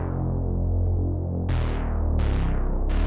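A thick, droning Reese synth bass holds a steady low tone, then three sharp bright hits cut in with decaying hiss, one after another.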